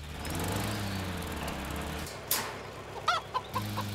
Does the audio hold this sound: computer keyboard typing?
no